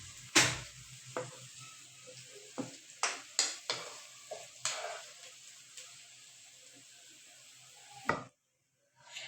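Onions fry in oil in a pan until light brown, sizzling steadily while a spoon scrapes and stirs in repeated sharp clatters, ending in a brief silence.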